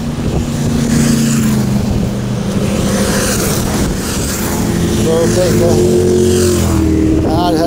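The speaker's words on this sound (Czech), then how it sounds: "A tady jsou motorkáři." Motorcycles pass on a road, heard as rising and falling engine drones under the steady whir of an electric bike ride, while someone speaks briefly.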